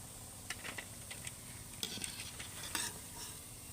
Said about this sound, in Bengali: বাকিগুলো একইভাবে ভেজে নেব